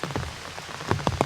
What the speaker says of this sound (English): This rain feels pretty good.